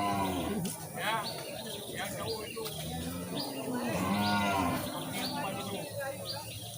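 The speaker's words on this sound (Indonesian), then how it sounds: "Ini sapi semental." A stud bull lows at the Gurugok livestock market in Aceh, a drawn-out moo amid a busy crowd of people talking, with birds chirping in the background.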